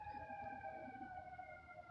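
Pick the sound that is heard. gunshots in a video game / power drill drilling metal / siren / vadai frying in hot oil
siren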